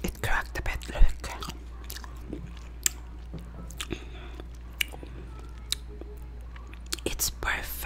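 Someone eats homemade caramel-flavored apple candy up close, with scattered soft crunches, bites and wet chewing clicks through a quiet, breathy background and no speech.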